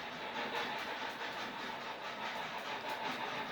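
Steady, fairly faint rhythmic chuffing from an HO-scale model steam locomotive's TCS sound decoder, working hard while double-headed on an ore train, with soft periodic puffs over a continuous hiss.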